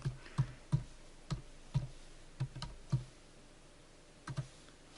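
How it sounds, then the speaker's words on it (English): Typing on a computer keyboard, with soft close key clicks in short irregular bursts and a brief pause, quiet and alone. "So I'll type in the office address."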